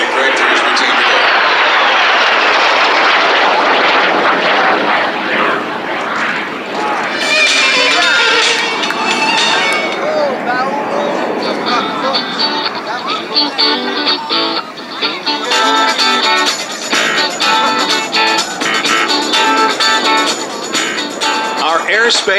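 A Canadair CT-133 Silver Star (T-33) jet performs at an air show, its engine roar sweeping past in loud rising and falling passes while a commentator talks over it throughout.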